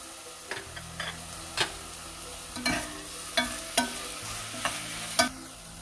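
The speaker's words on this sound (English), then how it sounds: "Let's add ginger garlic paste and fry till it loses its rawness." Ginger garlic paste frying in a pan for a kuska biryani base: a steady close sizzle broken by regular sharp spatula taps and scrapes against the pan, roughly one every half second to second.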